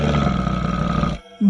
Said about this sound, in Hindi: तभी वह बंदर गुर्राने लगता है।